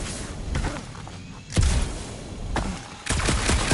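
Bursts of blaster fire crack out in a dark cave in the Guardians of the Galaxy video game on PS5, a few sharp volleys spaced about a second apart, close and punchy with no talking.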